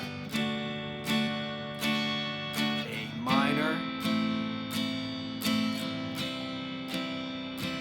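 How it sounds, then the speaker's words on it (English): An acoustic guitar strums close by in a steady repeating pattern of four downstrokes followed by an upstroke, ringing chords with no voices. "the strum pattern I've written here is 4 downs and an up, and it sounds like this"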